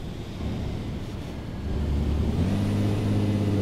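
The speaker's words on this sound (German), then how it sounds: "Wenn wir jetzt hier mal ein bisschen Vollgas drauf drücken, dann hören wir auch ein bisschen mal das Getriebe. Beziehungsweise ein bisschen den Motor arbeiten." MAN Lion's City bus engine in the OMSI 2 video game, heard from the driver's position under full throttle: a steady low drone that swells louder and deeper about halfway through and then holds.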